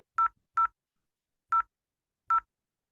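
Four short dialing tones from an IP phone in Packet Tracer: two quick beeps, a pause, then two more spaced beeps, clean and isolated.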